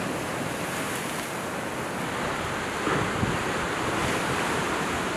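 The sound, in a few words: ocean waves surging into a volcanic rock cove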